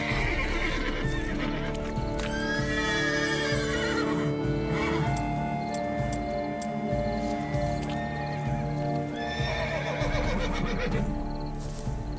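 A horse in The Witcher 3 video game whinnies loudly twice, the neighs rising and falling, with clip-clop hoofbeats and a steady background drone beneath, and no talking.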